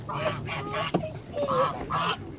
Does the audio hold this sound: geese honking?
yes